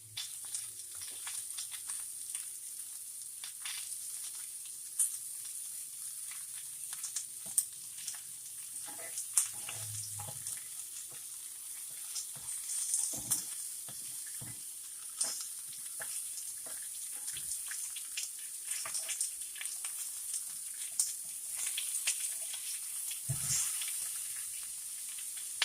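A burger patty topped with onions sizzling steadily in a ridged grill pan, a continuous close hiss with occasional crackles and the odd clink of a utensil.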